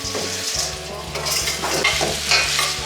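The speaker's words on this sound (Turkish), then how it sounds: "Şöyle aşçı başımızla çekirge kızartması." Grasshoppers sizzle and fry in a pan up close while a utensil stirs and scrapes against the metal in irregular strokes.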